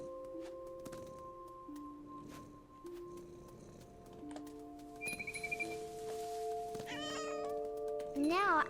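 A cat in the video game What Remains of Edith Finch gives several short meows over a steady musical score with tonal game chimes, then a rising, whining cry near the end.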